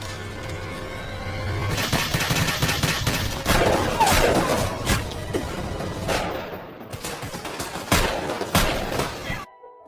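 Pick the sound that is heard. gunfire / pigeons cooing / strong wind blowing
gunfire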